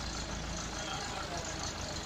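A small farm tractor engine, under repair with an oil leak, runs steadily at close range, its low broadband rumble continuous and even throughout.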